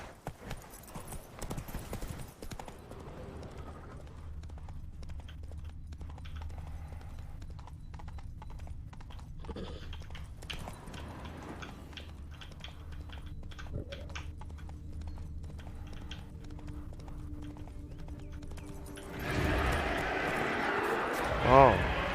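Hooves of a horse clop in The Witcher 3, heard within game ambience as a soft rhythmic thudding. A brief loud rush of wind-like noise swells near the end.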